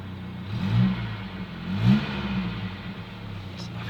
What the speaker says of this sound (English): It's nothing like the sound of an old engine.